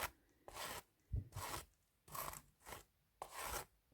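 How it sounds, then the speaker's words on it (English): A brush drawn through a Bratz doll's heavy synthetic hair, giving soft rasping strokes in a steady rhythm of about six passes, close and quiet, with no talking. "So I'm just going to brush through her hair one more time and getting any knots out."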